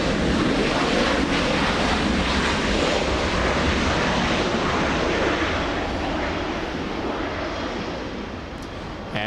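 A Delta Boeing 737 airliner flies in from Salt Lake City, a broad steady roar of jet engines with wind rumble, loud and sustained throughout.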